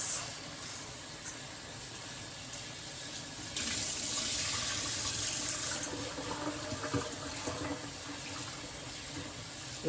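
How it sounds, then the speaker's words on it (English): Steady running water pours and splashes continuously as sea moss is rinsed, like a tap flowing into a sink, with a slight surge partway through. "we're gonna rinse it, draining the water"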